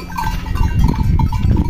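A herd of goats bleats loudly and continuously at close range in the brush on a farm, with many overlapping calls and a faint bell.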